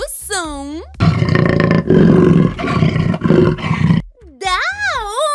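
A jaguar gives a series of deep, rough roars close and loud, with short gaps between bursts, framed by playful cartoon sound effects and a voice in a children's animal-sounds animation.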